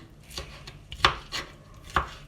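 A knife chops chicken liver on a cutting board in a home kitchen, with several sharp, close thunks in an uneven rhythm and no talking.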